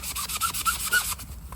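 A magic eraser scrubbing seats, rapid back-and-forth rubbing strokes up close, rhythmic and even, with no voices.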